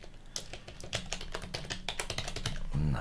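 Rapid, close tapping on a computer keyboard, a quick uneven run of crisp key clicks with no talking, ending in a short low thump.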